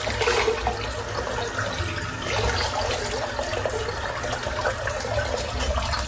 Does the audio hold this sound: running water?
yes